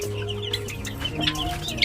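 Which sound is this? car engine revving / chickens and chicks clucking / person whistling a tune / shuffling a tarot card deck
chickens and chicks clucking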